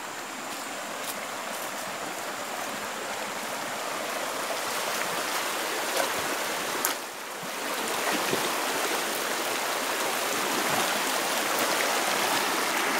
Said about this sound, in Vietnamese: Bây giờ mình lại đi dọc con suối này.